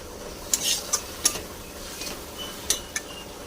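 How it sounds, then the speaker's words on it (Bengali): Ground spices (turmeric, cumin, coriander and Kashmiri chili powder) fry in a pan for a prawn and pointed gourd dish, with a soft sizzle under several distinct scraping stirs of a spatula against the pan. "মশলাটা কষানো হয়ে গেছে"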